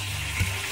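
Mustard seeds and urad dal splutter in hot oil, giving a brief, steady close-up fizz and hiss with a faint low bubbling underneath.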